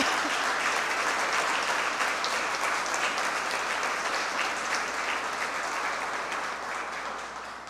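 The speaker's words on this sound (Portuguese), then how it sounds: "eu vou fazer quebrar o protocolo aqui um pouquinho e pedir uma salva de palmas para o capitão Eloy e também para o projeto." Audience applause at a solemn honours session in a legislative chamber, a sustained dense clapping from a large crowd that fades slightly toward the end, with no talk over it.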